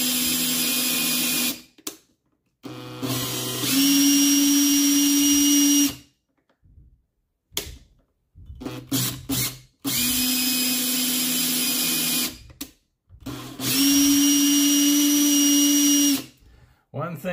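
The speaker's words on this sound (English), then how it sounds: "try not to like go full torque on the drill until it tightens up on this" A cordless drill tightening a turnbuckle whirs in repeated bursts, several seconds each, separated by short pauses, loud and close.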